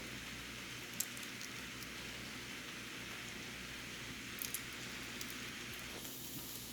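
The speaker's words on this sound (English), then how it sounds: "we're just kind of listening to our pan sizzle" A pan sizzles steadily while cooking risotto with garlic, a constant hiss and soft crackle, faint and even, with an occasional small pop and no voices.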